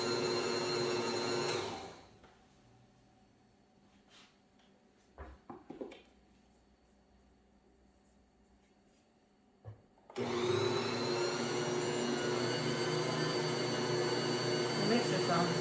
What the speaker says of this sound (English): The mixer sounds so much nicer than mine.